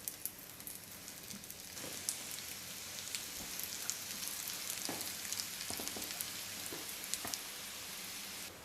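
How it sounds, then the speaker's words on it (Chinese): Rolled chive pancakes sizzle steadily in hot oil on a flat griddle pan, a continuous crackling hiss with scattered sharper pops, fairly close and alone with no talk. "饼铛里放一些油，油热后放入卷好的菜卷。"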